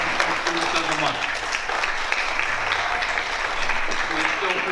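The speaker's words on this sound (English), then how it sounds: "Ladies and gentlemen, another round of applause for our RV Chamberlain Students of the Month." Audience applause at a school board meeting for the RV Chamberlain Students of the Month, a steady dense clapping wash that holds at an even level throughout with a faint murmur of voices mixed in.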